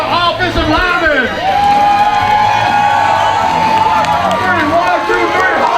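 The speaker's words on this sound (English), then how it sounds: "Round of applause for our offensive linemen." Large football crowd cheering, whooping and clapping for offensive linemen, loud and continuous for several seconds with shouted voices and excited yells over a steady wash of noise.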